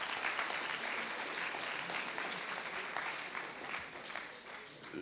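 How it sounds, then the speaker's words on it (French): Sustained applause from an audience at the final of a public-speaking eloquence contest, a dense steady patter of many hands that holds for the full stretch and eases only slightly toward the end. "Rien que pour ça, vous pouvez vous applaudir"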